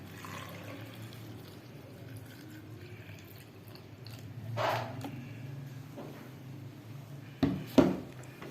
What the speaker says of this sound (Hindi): अब हम इसमें दूध शामिल करेंगे 1 गिलास।